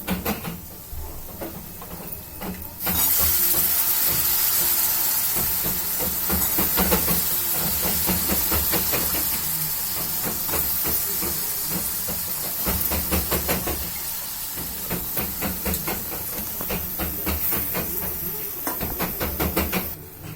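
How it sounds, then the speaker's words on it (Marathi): Cauliflower dropped into a hot pan of oil with coriander powder and spices, bursting into a loud hissing sizzle that continues with clatters and knocks as it is tossed. "आता आपल्याला त्यात भाजी टाकायची आहे"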